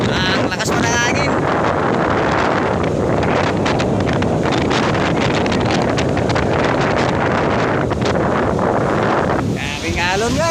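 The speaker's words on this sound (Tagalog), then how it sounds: "Ang lakas pa ng hangin." Strong wind beside a sea with big waves roars and buffets the microphone nonstop, with a rushing broadband noise throughout and a voice briefly heard under it.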